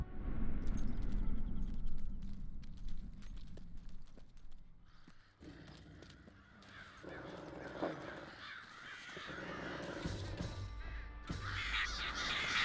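Crows caw repeatedly in the video game Fable 3, harsh calls layered over a busy, loud backdrop of clattering and hoof-like game ambience throughout.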